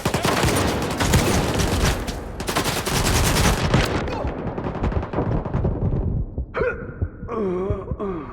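Dense, loud volley of automatic gunfire in STALKER 2, sustained bursts for several seconds that thin out, followed by a brief spoken voice near the end.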